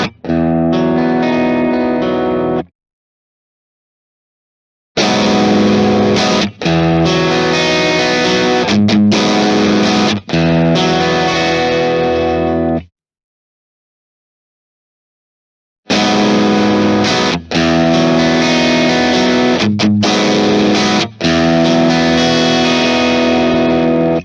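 Electric guitar played through an Origin Effects Revival Drive Compact overdrive pedal, with the More/Presence character knob being adjusted: loud, sustained overdriven chords and riffs in bursts separated by short silences.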